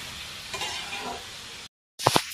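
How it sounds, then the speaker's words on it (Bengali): Carrot, capsicum and cabbage frying for pasta in a pan, a steady close sizzle with stirring scrapes, cut by a short silence before a few louder clatters of utensils. "এখানে আমি গাজর দিয়েছি, শিমলা মির্চ দিয়েছি, বাঁধাকপি দিয়েছি। এগুলো আগে ভেজে নেবো"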